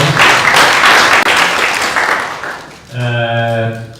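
An audience applauds with dense, loud clapping that fades out, followed by a voice speaking alone at the end.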